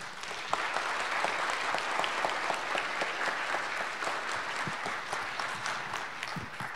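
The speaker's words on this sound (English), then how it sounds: "Let's give him a big applause." An audience applauds after a presentation at a diving conference: dense, continuous clapping from a seated crowd, moderately loud and steady, with individual claps standing out against the wash and no speech over it.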